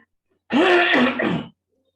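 One loud throat clearing, about a second long, close and alone in silence, a rough voiced rasp breaking into a short second push.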